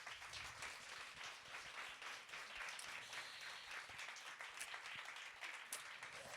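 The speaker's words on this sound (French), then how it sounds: "Donc, on peut applaudir les invités." An audience at a feminist podcast event applauds its guests, a sustained crowd of many clapping hands with scattered sharper claps standing out, steady and fairly distant.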